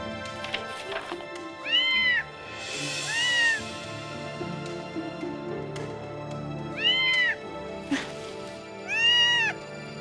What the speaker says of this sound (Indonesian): Kok ada suara kucing ya?